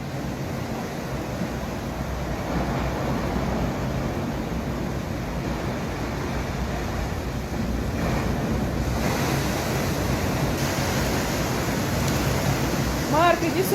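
Massive ocean waves surge onto the Southern California coast, a steady loud roar of surf with wind buffeting the microphone throughout, building slightly toward the end.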